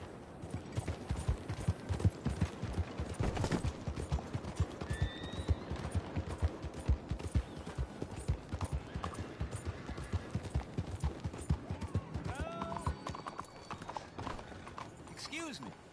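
Horse hooves clip-clop steadily throughout in Red Dead Redemption 2, close and rhythmic, with a horse whinnying briefly and game voices talking over the hoofbeats.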